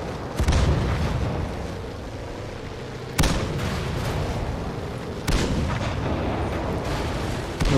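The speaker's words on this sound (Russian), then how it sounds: "тут все так взрывается" Heavy booming blasts from a World of Tanks battle with an M24 Chaffee Sport, three big explosions spaced a few seconds apart over a constant loud rumble.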